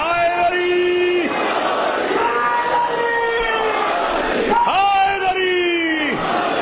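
A crowd at a religious gathering chants the Haideri slogan in loud, sustained voices. Two long, swelling waves of massed chanting each bend down at their close.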